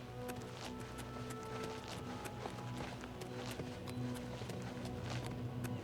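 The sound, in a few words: horse galloping in video game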